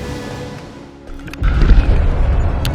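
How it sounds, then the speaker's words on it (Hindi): National Airlines Flight 102 strikes the ground at the end of the runway and explodes: a sudden deep boom that swells into a loud, sustained rumbling roar after a quieter lead-in. "इसके बाद एक धमाके के साथ"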